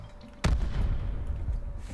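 A War Machine grenade launcher fires in Call of Duty Blackout, one sharp loud boom followed by a rumbling tail that fades over a second or so.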